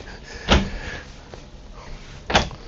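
Two short wooden thuds about two seconds apart, like a drawer being slid and bumped shut, close by in a quiet motorhome interior.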